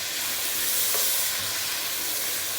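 Chicken pieces frying in a pan for Lahori-style murgh chaney, a close, steady sizzle and hiss with light stirring and no voices.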